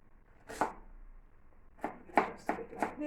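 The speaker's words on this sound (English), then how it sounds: "Just do it like this and chop it up." Food is chopped on a board with a knife, one sharp chop followed by a short pause and then four quick, evenly spaced chops, close and clear in a quiet room.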